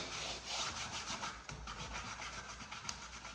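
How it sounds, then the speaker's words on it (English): A rag rubs and wipes stain off a wooden surface in steady back-and-forth strokes, producing a close, continuous scratchy swishing with a faint tap near the end. "wipe it all off. On the outside"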